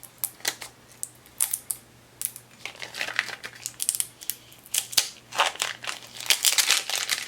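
Transfer tape rolled and pressed flat onto cut vinyl crackles and crinkles close by in a run of short, sharp bursts, some soft and some louder, with quiet gaps and a faint steady hum beneath.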